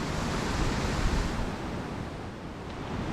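Fresh mountain water pours down in a Veracruz, Mexico rainforest, a steady, loud, broadband rush that carries on without a break.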